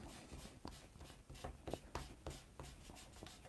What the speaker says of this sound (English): So I'm using my kneaded art gum eraser here